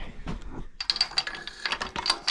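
A socket wrench ratchets on a Poulan, giving quick, close clicking bursts in an uneven rhythm after a brief soft handling noise.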